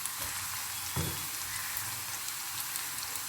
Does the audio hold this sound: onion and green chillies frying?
yes